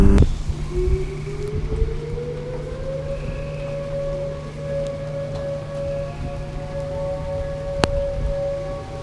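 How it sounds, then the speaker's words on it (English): Rain falling during a tornado storm, a steady hiss of drops on surfaces with a low constant hum and a rising tonal drone underneath, plus a couple of sharp knocks. "Oh, it's starting to rain now."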